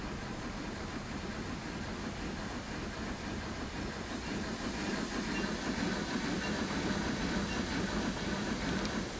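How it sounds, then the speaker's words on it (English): A steam locomotive in the video game Transport Fever 2 chugs and hisses continuously with a rhythmic clatter, loud and unbroken throughout. "That locomotive is noisy as buggery"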